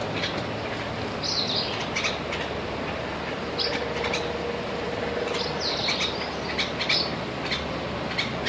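Sparrows at a farmhouse give several short, bright chirps in bursts over a steady, noisy outdoor background, fairly close and moderately loud, with no talking.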